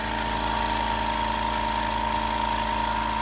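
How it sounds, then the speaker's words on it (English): Small portable pancake air compressor running steadily during cleaning work on a 1/14 scale hydraulic excavator, a loud continuous motor drone with a mechanical hum, close and alone without talk. "So that compressor is running."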